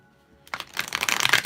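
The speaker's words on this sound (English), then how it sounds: "let me shuffle this too" A deck of cards being shuffled by hand, a quick riffle of crisp, rapid flutters that builds in loudness over about a second after a brief quiet start.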